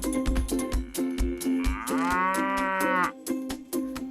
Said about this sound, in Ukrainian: Корова каже му му